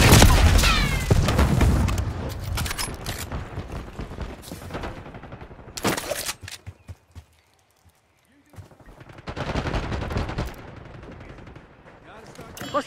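Loud gunshots and booming blasts from the video game Black Ops 6 ring out near the start, then scattered shots and a near-silent gap follow before more firing; in-game voices speak between the bursts.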